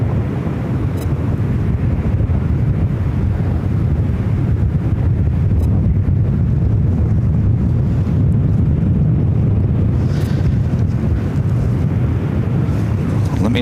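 Steady, loud wind buffeting a microphone airside at Ontario, California airport, a continuous low rumble and roar throughout with no pauses.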